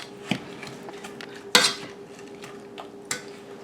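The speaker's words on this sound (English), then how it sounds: "I have found the easiest way to crush strawberries is just to rock them back and forth like that right there" Strawberries for small-batch refrigerator jam being crushed by rocking a masher back and forth in a bowl, giving a few sharp clinks and soft squelches against a steady low hum.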